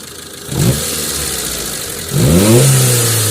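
A Mitsubishi 4AF engine with retarded timing and a misfire, running low on power, idles roughly and is revved twice, each rev rising then falling back to a rough, uneven idle close by.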